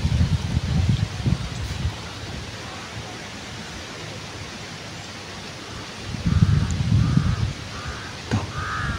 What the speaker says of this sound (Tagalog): Paikot-ikot yung uwak.